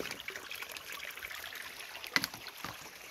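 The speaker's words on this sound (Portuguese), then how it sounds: "Aí eu uso mais esse tubo aqui, ó, e leva a água pra minha filtragem biológica" Water trickles through a tube into the biological filter of a home fish tank, a steady close flow with a few brief splashy bursts and no talking.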